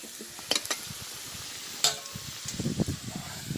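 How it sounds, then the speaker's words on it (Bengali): Vegetables stir-fried in plain oil with no salt or turmeric, for a winter home-style vegetable khichuri: soft sizzling under a few sharp clicks of a spoon stirring in the pan. "তুলে সব ভেজে নিয়েছি, তুলে নিচ্ছি।"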